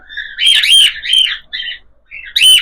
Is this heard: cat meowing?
no